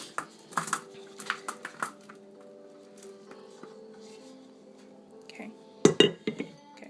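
Seasoned garlic pepper fries tossed into a pan, landing as a few soft, scattered clinks and pattering thuds, followed by quiet pauses and a sharper clatter near the end.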